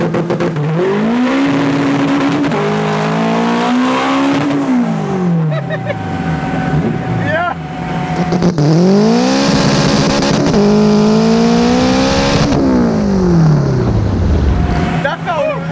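A 650-horsepower all-wheel-drive Honda Civic launches hard, its engine screaming up through first and second gear with rising pitch sweeps and a shift break between them, loud from inside the car, with voices talking over it.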